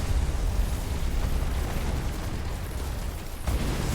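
A continuous rumbling roar of explosions and blasts in the game Taur, dense and loud throughout, with a slight dip before a final burst near the end.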